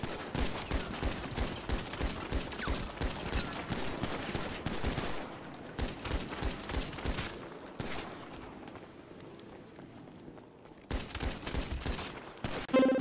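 Rapid video-game gunfire from Prodigy 2.0 in a 4v4 arena match, dense bursts of shots crackling almost continuously, briefly thinning mid-clip before another loud volley at the end.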